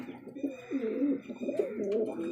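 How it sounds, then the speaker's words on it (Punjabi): Pigeons coo in a coop for large pigeons, with several overlapping rolling calls repeating steadily at close range and no voices. "ਇਹ ਆਪਣਾ ਹੈਗਾ ਕਬੂਤਰਾਂ ਦਾ ਖੁੱਡਾ ਵੱਡੇ ਕਬੂਤਰਾਂ ਦਾ ਖੁੱਡਾ"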